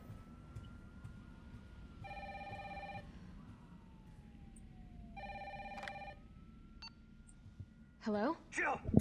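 Telephone ringing in the Resident Evil 3 video game: two separate bursts of an electronic trilling ring, moderately loud over a low game rumble, followed by a brief sharp game sound at the end.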